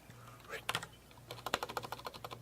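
Rapid clacky keystrokes on a mechanical keyboard, a short burst followed by a steady run of sharp, evenly spaced clicks, close and fairly loud over a low electrical hum with a faint voice in the background.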